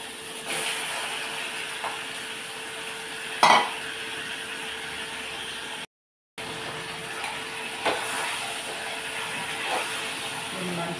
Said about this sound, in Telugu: ఇప్పుడు అల్లం వెల్లుల్లి పేస్ట్, ఆనియన్ ఉంది కదా ఇందులోనే చికెన్ కూడా వేసేసుకోవాలి